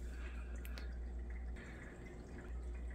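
Water added to a transparent hydroponics garden growing cucumbers, a quiet trickling pour with faint drips over a low steady background rumble, with no talking.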